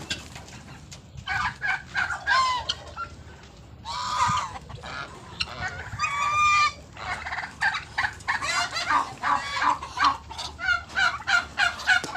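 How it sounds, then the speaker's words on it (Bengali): Turkeys gobble on a poultry farm in repeated warbling bursts, with clucking chickens around them, fairly close and steady throughout. "এই যে এগুলা হচ্ছে যে টার্কি মুরগি"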